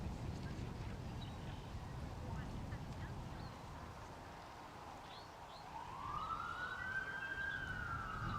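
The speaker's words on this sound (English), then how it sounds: "that's the 30-second siren" A distant 30-second warning siren at a race rises in a single smooth wail near the end, over a steady murmur of wind and crowd noise.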